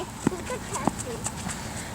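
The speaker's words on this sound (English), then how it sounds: "Look how cute the horsey is." A horse gives a couple of clear hoof knocks, at about a quarter second and near one second, with softer shuffling around them and indistinct voices murmuring in the background.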